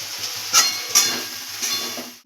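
Potatoes and green peas frying with ground cumin, turmeric, chili and salt in a pan, a close, loud sizzle with a few sharp clanks of a spatula against the pan, no talking.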